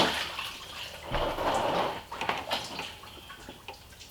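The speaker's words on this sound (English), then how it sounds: "Losing coolant." Coolant trickles and splashes from a 2019 Dodge Durango 3.6 engine with bad head gaskets during cylinder head removal, a close running dribble that swells and then breaks into irregular spatters.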